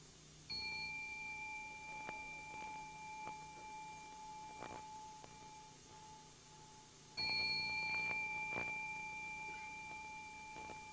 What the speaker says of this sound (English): At 3 in the morning on the 15th of January, Rohatsu Ozeshin begins with the ringing of the morning bell